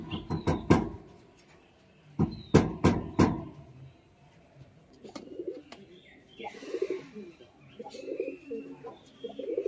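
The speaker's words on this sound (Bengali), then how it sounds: "বাজির পায়রা সেল আছে, মুর্শিদাবাদী লাইনে দেশি গিরিবাজ পায়রা।" Desi Giribaj pigeons of a Murshidabadi line coo softly in low, throaty bursts, with loud sharp knocks and clatters early on, then repeated murmuring coos close by.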